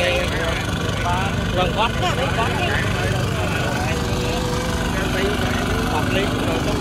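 A Kubota tractor engine idles in a rice field in Sóc Trăng, a steady mid-pitched drone running throughout beneath people talking close by.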